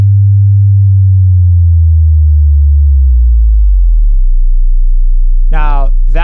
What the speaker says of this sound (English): I'm outputting a sine wave at 100 hertz